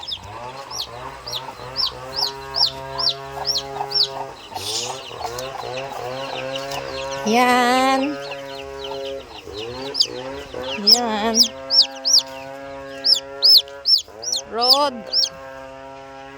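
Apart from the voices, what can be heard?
Rhode Island Red chicken chicks peeping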